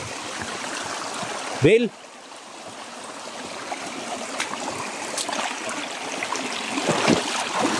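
A forest creek flows with a continuous close rushing and trickling. Someone shouts once and others talk over the water.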